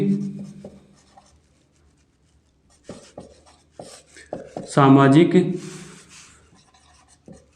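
Chalk or marker scratches and taps on a board in short strokes while someone talks over and between them.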